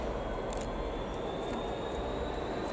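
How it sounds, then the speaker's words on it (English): A train rolls into Stowmarket station, a steady broad rumble of wheels on rail with a faint high whine and a few brief squeals, close and loud throughout. "Train now coming."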